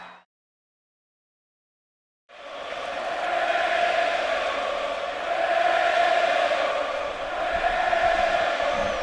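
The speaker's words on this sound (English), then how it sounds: "this standing room only crowd trying to get under Johnny Cueto's skin" A standing-room-only baseball stadium crowd jeers at pitcher Johnny Cueto, a dense, loud roar of voices that swells and holds after a brief near-silent opening.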